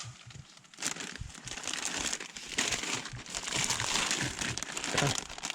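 A plastic bag of diced O'Brien potatoes with onions and peppers crinkles and crackles continuously up close, handled at a cold-weather truck campsite.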